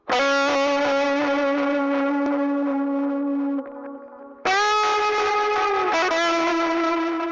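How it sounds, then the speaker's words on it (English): A distorted electric guitar solo plays through a Woodrow 55 amp plugin with a punk rock delay, sustained bright notes ringing with echo repeats, a short dip to quieter trailing echoes, then a loud new phrase. "I've also stuck a delay before it using the punk rock preset,"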